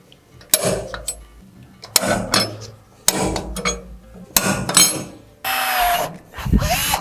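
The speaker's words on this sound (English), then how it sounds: "Now we're gonna drill our holes." Bursts of power drilling into a metal plate, several short loud runs separated by pauses, with clanking and scraping between them, during a valve spring replacement on a 5.7 HEMI engine.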